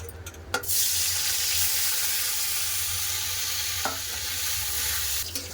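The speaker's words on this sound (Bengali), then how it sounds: "পনির ভেজে নেব" Pieces of paneer sizzle steadily in hot oil, a continuous close frying hiss with a few sharp clicks of stirring, and no voices.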